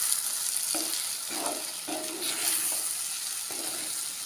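Mango pickle with chilli powder and chilli flakes is stirred in a hot pan, a continuous bright sizzle with several soft scraping strokes of the spoon, near and moderately quiet.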